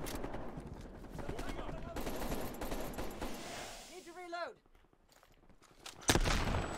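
Gunfire in the Call of Duty Black Ops Cold War video game: dense rattling bursts of shots and clatter fill the first four seconds, then a whooshing sweep, a quiet pause and a sharp loud blast near the end.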